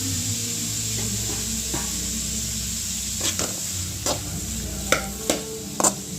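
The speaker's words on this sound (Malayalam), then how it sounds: "ഇതിലേക്ക് നമ്മൾ എടുത്തു വച്ചിരിക്കുന്ന ക്യാപ്സിക്കം ക്യാരറ്റും കൂടി ഇട്ട് കൊടുക്കാം അതെല്ലാം കൂടി നമുക്ക് നന്നായിട്ടൊന്ന് വഴട്ടിയെടുക്കാം" Capsicum and carrot sauté in a pan while upma is being made, giving a steady sizzle with a spoon scraping and clinking against the pan several times, getting sharper toward the end.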